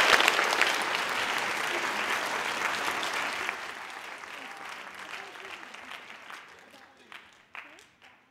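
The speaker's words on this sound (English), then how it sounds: "would you give them a round of applause?" Audience applause at a middle school winter string and vocal concert, a full room clapping steadily and loudly at first, then thinning out and tapering off into scattered claps near the end.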